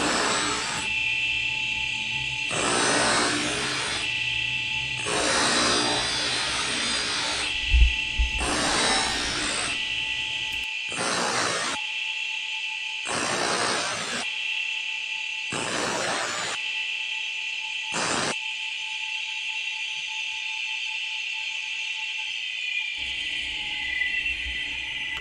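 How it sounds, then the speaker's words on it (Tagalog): A hand file rasping across the sharp edges of a knife guard on a Damascus blade, repeated long scraping strokes in regular bursts over a constant loud mechanical hum. "kinikikil po natin yung mga sharp edges ng garol natin"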